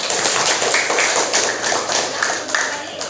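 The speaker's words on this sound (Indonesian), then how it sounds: "Silahkan tepuk tangan buat mereka." Children in a classroom clap their hands together, a dense, steady patter of applause that stays close and even from start to finish.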